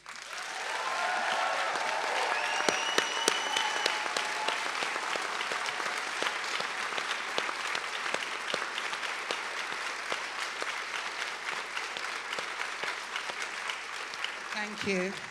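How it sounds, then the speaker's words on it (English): Large audience at a political rally event giving a long, sustained round of applause for a speaker, dense clapping with some cheering early on, loud and steady for about fifteen seconds before tapering off. "Please give a massive round of applause to Jacqui Haynes."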